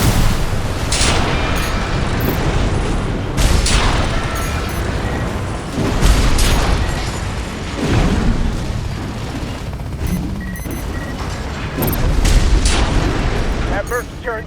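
Heavy gunfire and booming explosions from the mech combat game Armored Core VI, loud repeated blasts and bursts layered over dense rumbling battle noise, with voices speaking amid the fighting.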